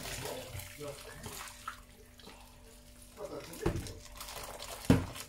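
Water runs and splashes into a pot for couscous being cooked with lamb and vegetables, a steady pouring rush with clinks of cookware while someone talks over it.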